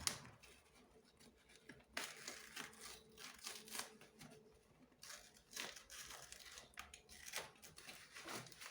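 A utility knife slices through adhesive tape holding foam and styrofoam parts of an old 70 cm musical Santa Claus figure, giving scattered crunchy, crinkling cuts and scraping strokes at close range, with no talking.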